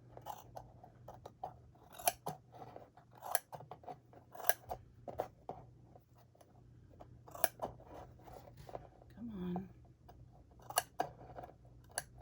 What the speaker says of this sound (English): these scissors aren't really good for this fabric, are they?